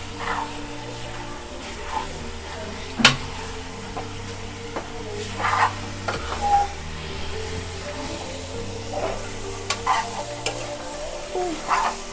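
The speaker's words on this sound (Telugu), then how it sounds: "ఇప్పుడు రొయ్యలు వేస్తున్నా అండి ఫ్రై వేద్దామా" Prawns fry in oil with a constant sizzle over a low hum, while a utensil stirs and scrapes the pan now and then, with occasional clinks and no speech.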